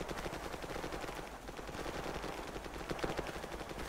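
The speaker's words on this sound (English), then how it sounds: "That's a lot of fucking gunfire," Heavy gunfire in the military shooter Project Reality during forest warfare near cliffs, rapid continuous machine-gun bursts and scattered shots from some distance, dense and sustained throughout.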